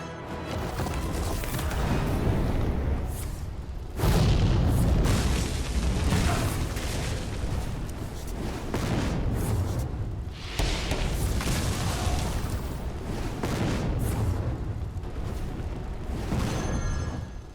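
Fire spells burst in quick succession on random enemies in a Hearthstone match, cast by a fire dragon legendary in a Wallow Warlock deck, with dense, continuous booming explosions and crackling blasts that swell at intervals for the whole stretch.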